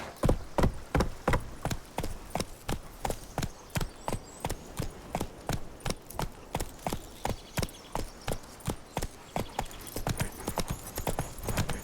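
Roach, a horse in The Witcher 3, gallops in a steady, rapid clip-clop of hooves, loud and close, with an even rhythm running the whole time and no talk over it.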